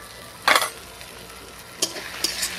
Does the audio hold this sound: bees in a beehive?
no